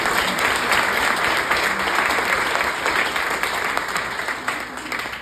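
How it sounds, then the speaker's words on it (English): Sustained audience applause at a comedy show, a dense wash of clapping filling the room for several seconds, steady and loud before gradually thinning toward the end. "It was a cheap way to get applause"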